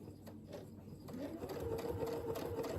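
A sewing machine stitches a churn dash mini quilt, its needle hammering in a fast, even mechanical patter close by, starting lightly and running steadily.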